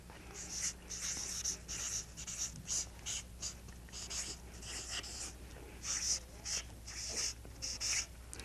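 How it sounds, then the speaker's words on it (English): A pen scratches steadily across paper in short strokes and bursts, close but quiet, with a faint low hum in the room and no talk. "I'm going to write it down."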